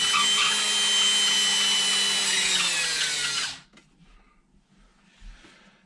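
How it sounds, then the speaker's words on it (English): Power drill whirring steadily into pantry wood for about three and a half seconds, loud and close, then cutting off abruptly into quiet room noise with faint knocks. "So we drill those like that."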